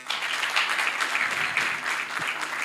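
Sustained audience applause at the ASCOM 2024 event, a dense steady clapping from a crowd lasting throughout, with faint voices underneath.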